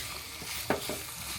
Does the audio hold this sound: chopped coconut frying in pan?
yes